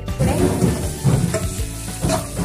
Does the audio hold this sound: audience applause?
no